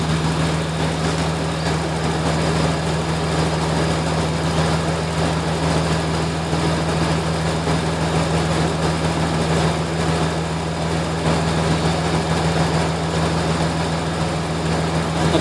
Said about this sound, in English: this is the engine absolutely cold here